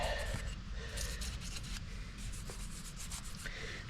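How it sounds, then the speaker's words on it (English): Anti-seize compound being rubbed by hand onto wheel bearing parts during a wheel bearing replacement on a Ford Explorer, a steady close-up rubbing and smearing with soft, continuous friction and no talk. "anti-seize right here and rub around"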